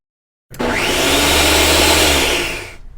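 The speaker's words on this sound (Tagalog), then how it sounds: "I-process po natin sa blender" A blender starts abruptly after a short silence, whirring loudly and steadily at close range while processing sautéed garlic and onion for palabok sauce, then winds down and stops.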